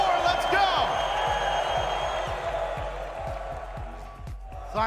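Arena crowd noise at a Rocket League esports championship watch party, a dense roar of cheering and whoops with rhythmic low thumps, steady and loud before easing slightly near the end.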